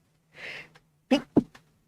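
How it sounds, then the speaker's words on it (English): A single sneeze: a quick breathy intake followed by a sharp, explosive burst and a brief trailing sound, close and alone. "Pardon me, I got to sneeze."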